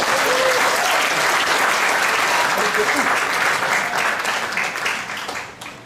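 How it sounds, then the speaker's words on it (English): An audience claps loudly and continuously, the applause tapering off toward the end. "A round of applause, please."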